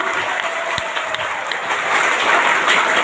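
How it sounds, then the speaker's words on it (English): Sustained applause from a crowd at a school function, steady throughout and swelling a little toward the end. "Please give big round of applause."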